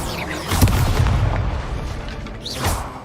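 An Expulso explosion spell cast in Hogwarts Legacy: a loud, deep booming blast with a rumbling tail, then a second, smaller whooshing burst near the end.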